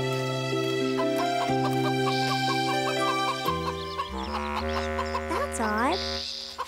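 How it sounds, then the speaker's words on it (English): A cartoon chicken clucks repeatedly in quick, close bursts over orchestral score from a 1995 animated Little Red Riding Hood film, the music continuing with rising and falling tones as the clucks fade. "Red gets back on track until she heard clucking for what I assumed to be a chicken."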